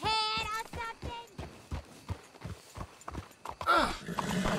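Horse hooves clip-clop in Red Dead Redemption 2, a steady run of hoofbeats near and fairly loud, opening with a whinny and ending under a burst of louder activity.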